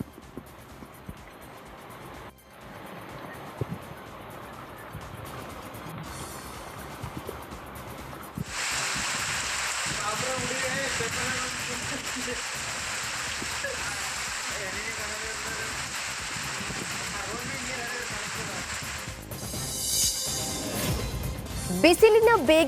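Moderate rain falling over villages in Chikkamagaluru taluk, a steady broadband hiss that swells louder partway through and continues evenly, with a few brief disturbances near the end.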